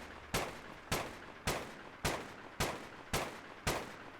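A colonist fires a gun in the Rimworld video game: seven evenly spaced single shots, each a sharp crack with a short decaying tail, repeating about every half second at moderate loudness.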